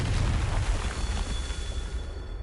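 A Confringo explosion spell in a wizarding game bursts with a loud, roaring boom that rumbles heavily at first and then slowly fades into a lingering, hissing tail.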